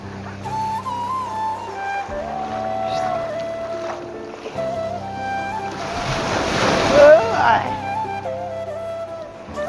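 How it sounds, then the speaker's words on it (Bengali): Sea waves at Bakkhali beach roll in close, with wind buffeting the microphone and a surging wash that peaks midway, while people talk nearby. "আবার ঢেউ আসতেছে"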